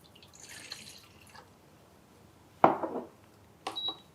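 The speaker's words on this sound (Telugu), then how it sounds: "గ్లాస్ వాటర్ వేసి తీసుకోండి" A glass of water is poured while a summer cooling drink is prepared, heard as a short splash-and-drip burst with a light clink afterward, close and otherwise quiet.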